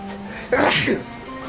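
A single loud human sneeze indoors, a sharp burst after a short inhale, with a low background hum and faint game sounds around it.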